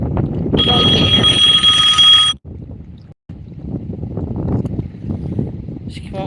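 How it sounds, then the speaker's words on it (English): Gusts of wind buffet a handheld microphone outdoors by the Missouri River, producing low rumbling bursts that cut out briefly and return. A phone chimes early on, and someone speaks faintly under the rumble. "it's windy over on this side now"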